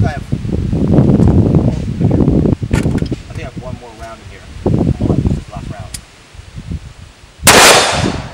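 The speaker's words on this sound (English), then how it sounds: "Let me fire two more rounds." An M4 rifle with a VG6 cage on its flash hider is fired inside an FJ Cruiser. Muffled talk and thumps fill most of the stretch, then a sharp, loud blast with a hard broadband crack lands near the end.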